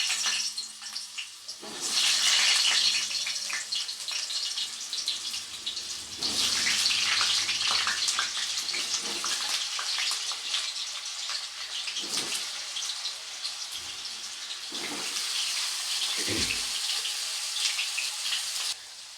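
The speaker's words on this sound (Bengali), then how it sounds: "তো তেলটা গরম হয়ে গেছে, প্রথমেই ভেজে নেব কটা আলু" Diced potatoes fry in hot oil for a chicken pepper fry, giving a loud, steady hissing sizzle that swells and fades with occasional stirring scrapes.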